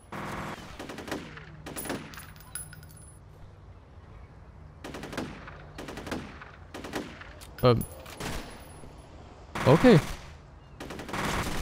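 Bursts of weapon fire in the shooter game F.E.A.R., several short volleys spaced irregularly at moderate volume, with a few sharper, louder shots near the end and a brief spoken word in between.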